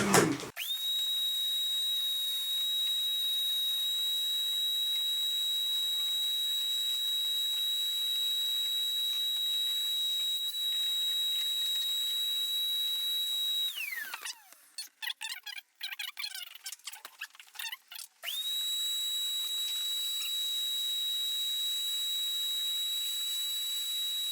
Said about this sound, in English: It is time to hoover the inside of the computer.